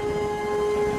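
A conch shell is blown in one steady, sustained horn-like note held for about a second, fairly loud with no voices.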